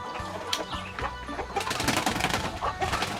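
Free-range village chickens on a Thai farm raised for sale cluck repeatedly at close range, with scattered sharp calls over a busy background of overlapping bird noise.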